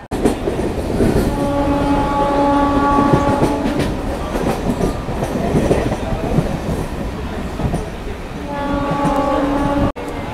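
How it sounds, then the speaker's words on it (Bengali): An express train from Kanyakumari to Dibrugarh pulls into a station platform, its steady rolling rumble and wheel clatter filling the scene, with sustained horn tones sounding near the start and again near the end. "আর ওই যে ওদিকে ঢুকছে, আই থিঙ্ক ওটা 2 নম্বর প্ল্যাটফর্ম, কন্যাকুমারী ডিব্রুগড়।"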